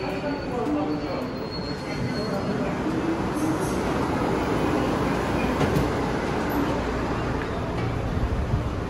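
A subway train rumbles along with continuous loud rolling noise and faint wheel squeals, steady and close, like riding inside a metro car.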